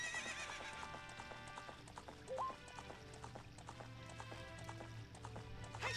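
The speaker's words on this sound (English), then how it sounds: "Real horsey. I love my horsey." A horse in the N64 game The Legend of Zelda: Ocarina of Time gallops with steady clip-clop hoofbeats and a brief whinny, running over game music without speech.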